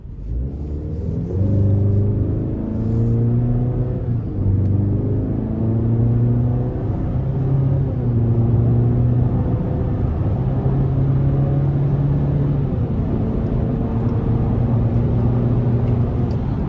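A 2025 GMC Canyon AT4 truck accelerates hard from a slow roll in cold weather, its engine droning steadily and rising through several gear changes, loud and continuous with no talk.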